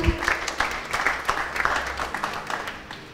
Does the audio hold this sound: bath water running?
no